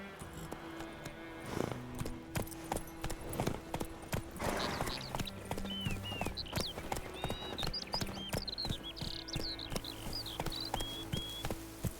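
Horse hooves clip-clop steadily in The Witcher 3 video game, a rhythmic walking gait running the whole time under game music and other ambient layers, with a few louder thumps.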